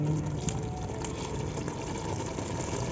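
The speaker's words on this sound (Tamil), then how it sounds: "நல்லா இது மாதிரி நல்லா கொதிக்கணும்." Mutton biryani gravy bubbles over a wood-fired stove, a constant rough rumbling boil with soft bursts, close and unbroken by speech.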